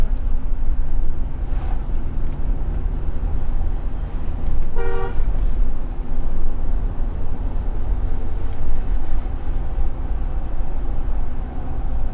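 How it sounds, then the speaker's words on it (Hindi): A car horn gives one short toot partway through on a narrow road, standing out over constant loud traffic and engine noise. "याद आया उसको हॉर्न बजाना है"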